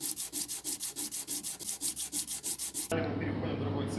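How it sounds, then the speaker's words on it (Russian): Hand sanding and smoothing the surface of a handmade national-style pendant: fast rhythmic rasping strokes, close and crisp, about a dozen in quick succession, then a switch to steady machine hum. "Дальше у нас идет уже обработка поверхности, шлифовка поверхности и полировка."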